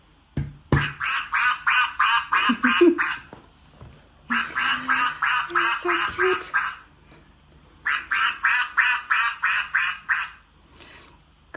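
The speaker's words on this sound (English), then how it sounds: "some of them reminded me of my little friend, the mallard duck." A mallard duck quacks loudly and close, in three bursts of rapid repeated quacks separated by short pauses, while a person speaks briefly between the bursts.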